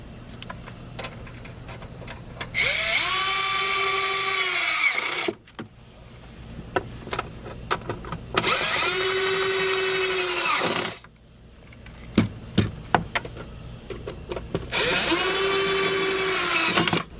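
An electric power tool tightens bolts on an S&B cold air intake fitted to an L5P Duramax, running in three sustained whirring bursts of about two to three seconds each, separated by quieter stretches of handling and clicks.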